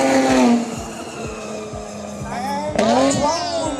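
A Chevy Camaro muscle car drag-races a large BYD Tang SUV, with a loud engine roar rising and falling through gear changes and a sharp tire squeal partway through, while voices sound over it.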